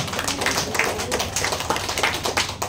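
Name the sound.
audience clapping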